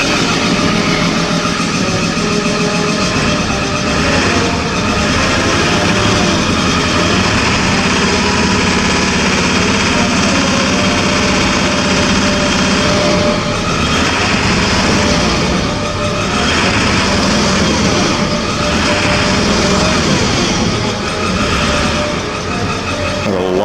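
A heavy diesel truck engine idles loudly and steadily while warming up, a continuous low rumble with a slightly rough, pulsing texture throughout.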